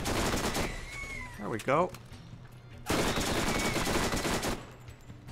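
Shotgun and SMG fire in Borderlands, with dense bursts of rapid gunfire in two long stretches around a brief gap, loud and close, while a voice briefly talks.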